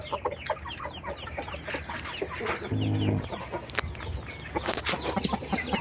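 Several bantam chickens cluck and squawk in short bursts, with a rooster's brief crow mixed in, over a busy outdoor background.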